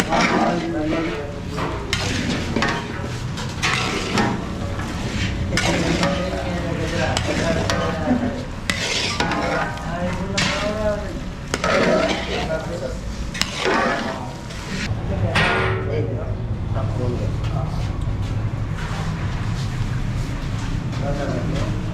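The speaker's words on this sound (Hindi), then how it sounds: "जो पका हुआ ये जो गाजर का हलवा था वो मैं इसमें ऐड कर दिया, अच्छी तरह से मिक्सअप करेंगे।" Carrot halwa (gajar ka halwa) being stirred and mixed in a hot pan, a steady loud scraping and sizzling throughout while a person talks over it.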